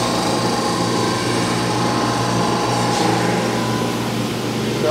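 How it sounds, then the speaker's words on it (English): A power sander working over oak boards cut from home-grown trees, a loud, steady whirring drone that holds without a break throughout. "I will sand off both sides"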